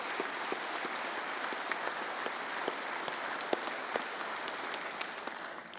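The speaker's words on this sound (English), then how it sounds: "Would you please give them a round of applause?" An audience at a Grand Lodge of Texas Masonic gathering gives a sustained round of applause, an even crackle of many hands with a few louder individual claps standing out near the listener.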